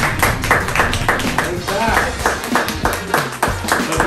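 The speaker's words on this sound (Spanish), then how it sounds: "Un aplauso." Podcast studio audience clapping to welcome the church pastors, a steady patter of claps mixed under ongoing speech.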